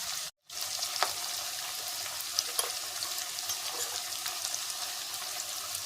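Onions, chili and garam masala sizzle steadily in a pan for home-style Bihari and Bengali mutton, a close, continuous fry with a brief dropout near the start.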